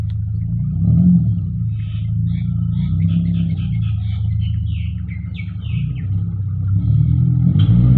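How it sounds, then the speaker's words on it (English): A small car rumbles past nearby, its engine swelling and fading, with birds chirping faintly in the background. "That's just one small car."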